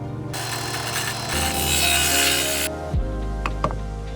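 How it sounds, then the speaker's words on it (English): Plywood being worked with tools while boards are marked up for cutting aboard a sailboat during a battery installation; a steady, fairly loud sawing or rasping noise runs for about two and a half seconds, then stops, followed by a few brief knocks. "just marking up some pieces of ply that we will cut"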